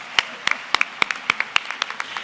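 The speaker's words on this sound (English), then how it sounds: "let's give her another round of applause" Clapping at an awards ceremony comes as a sparse round of sharp, separate handclaps from a few people, loud, close and roughly rhythmic, with clear gaps between claps.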